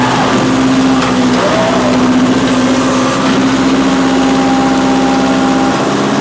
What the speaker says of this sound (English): Alright, so I brought the tractor down here in the creek bed